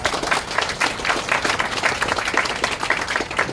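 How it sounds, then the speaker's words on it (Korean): A church congregation at a memorial hall opening thanksgiving service in Uiseong, Korea, claps steadily to welcome family members, a moderate, even round of applause heard at a modest level. "우리 박수로 환영하겠습니다"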